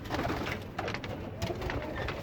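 Pigeons coo close by, soft repeated throaty calls overlapping in a steady murmur with no talk.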